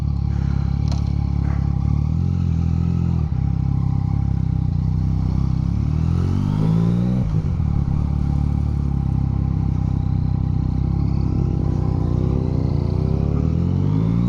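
Loud, continuous Yamaha CP3 motorcycle exhaust rumble from a newly fitted exhaust, the engine revving up and down in swells, close by and uninterrupted.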